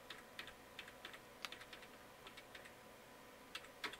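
Arrow keys on a computer keyboard are tapped in a series of quiet, irregular clicks during a Void Linux installation on an old PC, faint and close with no speech.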